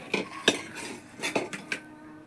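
Dishes and cutlery clink while rice is served for a home meal, a few distinct sharp clatters spaced apart with quieter scraping between, close and moderately loud.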